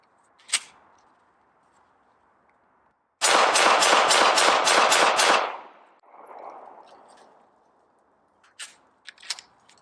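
A Smith & Wesson M&P9 Shield EZ 9mm handgun firing 125 grain rounds at a range: a fast, even string of about seven loud, sharp shots, with a single shot before it and a few fainter pops after.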